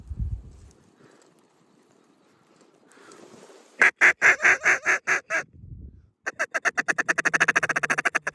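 Mallard ducks in a hunting decoy spread call in two loud bursts of rapid, rhythmic quacks, the second a longer steady run of pulses, with quiet stretches and low rustling between.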